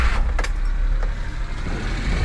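A Daihatsu Hijet fire truck's small engine cranks briefly with short whirring bursts, then catches into a low, steady idle close by.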